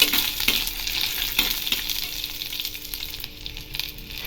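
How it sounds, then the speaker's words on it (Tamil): Onion and dried red chillies roast in a pan for a groundnut chutney, giving a close, steady sizzle with several quick stirring scrapes that ease off toward the end. "வெங்காயம் காஞ்சி மிளகா போட்டு இதை நல்லா வறுத்துடலாம்"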